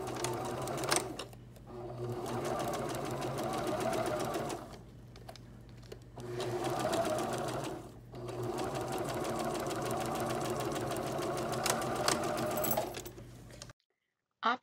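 A sewing machine runs in long bursts while stitching the top and bottom seams of a fabric face mask, pausing briefly between runs, close and steady, with a faint cooing bird in the background.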